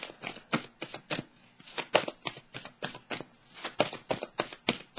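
Tarot cards are shuffled by hand in quick, crisp riffles, repeating in bursts of close, dry rustling with no talking.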